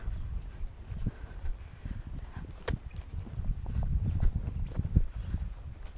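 A young filly walks around a round yard, her hooves clip-clopping in a steady, unhurried rhythm on soft ground, close by and moderately loud, with no speech.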